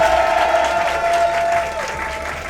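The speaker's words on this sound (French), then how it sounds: "je vous demande de faire un tonnerre d'applaudissements pour lui" Audience applause at a French comedy sketch show: a dense, sustained round of clapping from a crowd that holds steady and then eases slightly toward the end, with a faint tonal hum running underneath.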